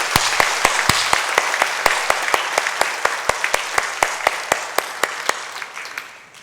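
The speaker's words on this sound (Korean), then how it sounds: "우리 하나님께 영광의 박수 올려드리겠습니다" A church congregation claps in unison during a Sunday worship service, sharp rhythmic beats about three per second over a wash of scattered applause, the crowd noise thinning toward the end.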